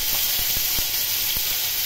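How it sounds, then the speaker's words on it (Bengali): Ground coriander, cumin, chili and ginger paste hit hot oil with mixed five-spice seeds for a small river-fish curry, giving a steady close sizzle and hiss broken by a few soft clicks, with no voices. "এর মধ্যে ধনে, জিরে, লঙ্কা,"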